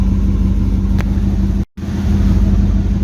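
Engine of a Pontiac Turbo Trans Am with a two-speed shifting problem, droning loud and close at steady revs, cutting out for a brief moment before picking back up.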